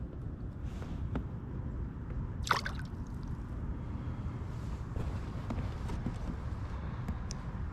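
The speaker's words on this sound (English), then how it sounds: "Man, it's raining out here." Rain falling outdoors on a cold 47-degree day of bass fishing in South Carolina, a steady close patter of drops with wind noise on the microphone and one brief louder splash partway through.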